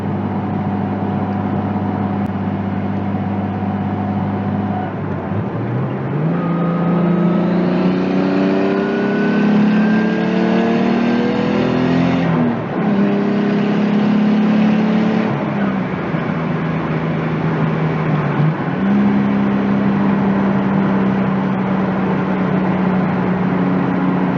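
Nissan S13 240SX with a swapped RB20DET turbo straight-six accelerating on the road, engine note climbing through several gears with rising pitch and brief dips at shifts, heard close from inside the car.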